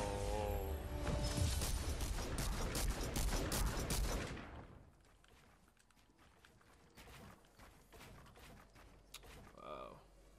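A new infantry rifle fired in a video game, with dense rapid bursts of gunfire for the first few seconds, then scattered quieter shots and game sounds; a voice speaks briefly.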